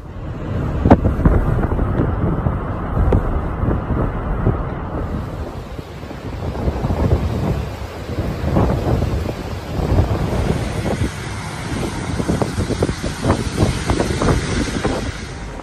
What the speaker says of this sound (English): the waves tens of meters high constantly crashing against the shore